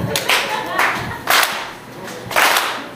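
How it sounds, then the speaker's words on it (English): A few sharp hand claps from a live rap crowd land in an uneven rhythm, roughly one per second, each bright and distinct over a murmur of voices. "clap your hands real quick."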